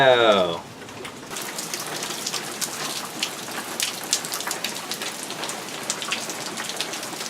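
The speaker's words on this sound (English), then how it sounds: "It's raining?" Steady rain pours onto surfaces outdoors at the start of a spring break beach day, a dense even patter with scattered louder drops, following a brief burst of a voice at the start.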